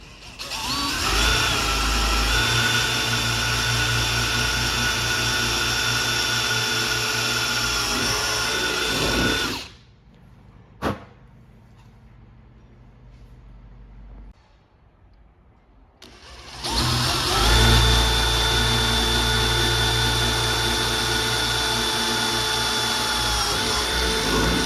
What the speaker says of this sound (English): we're going to drill an 8mm hole through each of these points